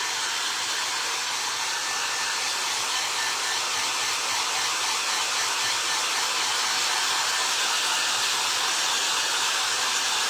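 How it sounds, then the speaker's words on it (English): A hair dryer runs nearby during a home craft session, giving a steady, loud, unbroken airy whoosh that barely changes in tone from start to finish. "Sorry about all the hair drying here."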